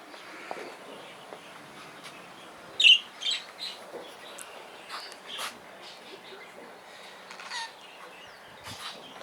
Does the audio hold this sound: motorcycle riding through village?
no